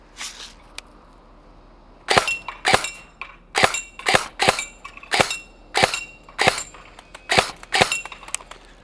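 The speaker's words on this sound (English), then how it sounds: "This is our CM16 LMG from G&G. First things first, let's let off a couple rounds." A G&G CM16 LMG airsoft electric gun fires at an outdoor shooting range, giving about a dozen sharp, loud, evenly spaced single shots after a short quiet start.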